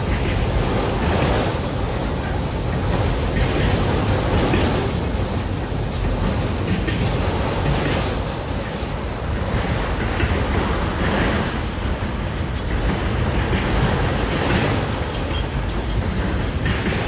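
A Union Pacific freight train of empty wagons rumbles past close by, a loud continuous roar of rolling wagons and rattling wheels that never lets up.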